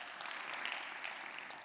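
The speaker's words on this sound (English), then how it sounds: "Let's give them a big applause, a standing applause" Audience applause for a sponsor at a travel bloggers' event, a faint, distant wash of clapping that holds steady for a brief moment.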